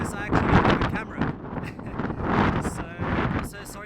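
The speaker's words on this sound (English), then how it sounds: "So sorry for the wind, it's very windy here today." Gusty outdoor wind buffets the microphone in loud, uneven bursts, with a person talking over the rumbling noise the whole time.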